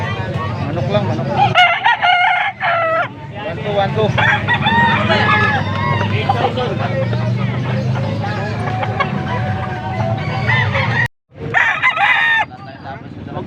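Roosters crow loudly and repeatedly close by at a rooster market in Pampanga, with hens clucking, while people talk over the birds.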